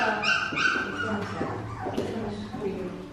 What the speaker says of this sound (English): just grab the squealing ones and you can cuddle with them